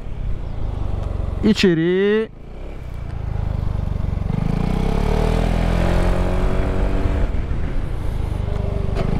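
A 250 cc maxi-scooter, a Yamaha XMAX 250 or Honda Forza 250, drones steadily up close, its engine note climbing as it accelerates after a single short spoken word.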